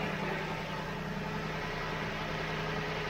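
Lexus IS250 engine idling just after an intake manifold replacement, with spilled oil smoking off the exhaust manifold; a steady, continuous hum with no talk.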